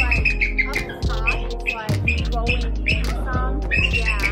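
A 50-year-old rescued bird from a raptor rescue, saved from the Exxon Valdez oil spill, gives repeated harsh squawks in short bursts, close and loud, with voices talking nearby.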